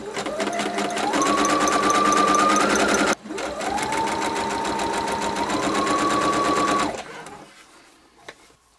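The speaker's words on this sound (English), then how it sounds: "At the sewing machine then, I'm going to sew these right sides together" A sewing machine stitches fabric steadily for about seven seconds with a short pause and restart, its motor whirring and pitch rising as it speeds up, then stops.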